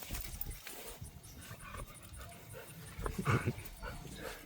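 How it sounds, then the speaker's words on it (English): A dog behind a fence pants and snuffles quietly and steadily, then gives one louder gruff bark or huff near the end, set against faint outdoor noise. "there's a dog on the other side of the fence"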